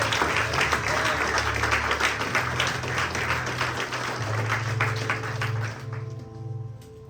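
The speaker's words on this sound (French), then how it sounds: "Acclame pour le Seigneur." A church congregation applauds at a French-language service. The dense, sustained clapping fills the room with a low hum beneath it and tapers off toward the end, while voices carry faintly through the applause.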